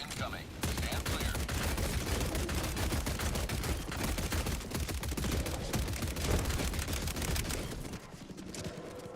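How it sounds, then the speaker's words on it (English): A video game orbital barrage pounds away in a long dense volley of blasts and crackling impacts, loud and sustained before tapering off near the end. "Orbital barrage incoming."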